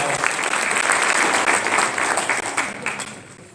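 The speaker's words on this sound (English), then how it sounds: "that deserves a warm round of applause" Warm applause fills the room at a Delaware Secretary of State swearing-in ceremony, a broad, even clatter of many hands that gradually tapers off.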